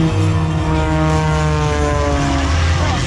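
An aerobatic airplane performs at an airshow, flying low beneath the cloud base. A steady, loud propeller drone with a strong engine hum holds throughout, with no break.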